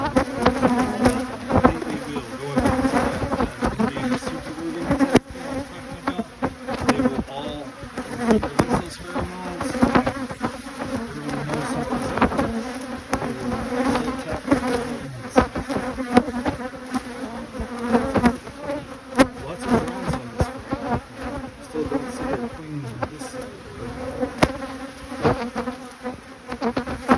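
A dense swarm of bees buzzes around a beehive, a continuous loud close drone with shifting wingbeat tones and darting passes that runs throughout without voices.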